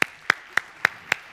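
A few sharp, evenly spaced hand claps ring out at a keynote talk, about one every quarter second, close and distinct with quiet gaps between them.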